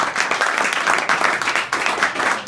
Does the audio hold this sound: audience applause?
yes